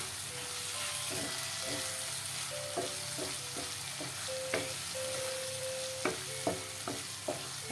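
Spice masala stirred with a spatula while pre-fried potatoes sizzle in it, a steady soft frying hiss under repeated scraping stirs and clinks of the utensil against the pan, close and moderately quiet, no talk.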